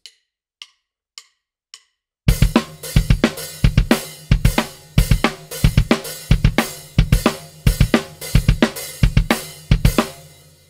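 Drum pattern from a song: four soft clicks count in, then kick, snare and hi-hat enter loudly in a repeating, irregular syncopated groove with tight, punchy hits and no voices.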